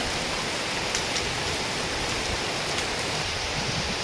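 Steady rain pours down outside a hostel, a dense unbroken hiss that stays loud and even throughout with no voices.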